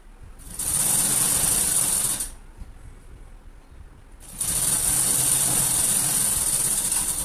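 A sewing machine stitches a strip onto a blouse, running in two steady whirring bursts with a pause between them, close and fairly loud.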